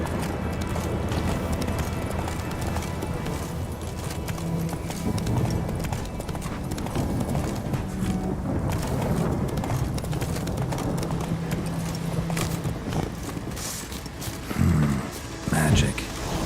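A horse gallops steadily in a Skyrim fantasy video game, with rhythmic clip-clop hoofbeats over a constant background of ambient game sound and music, and a few louder thumps near the end.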